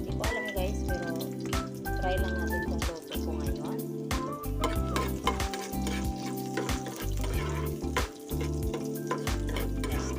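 Garlic frying in a pan as the first step of a corned beef dish, a steady crackling sizzle running throughout with utensil stirring and scraping layered over it and a voice speaking at times.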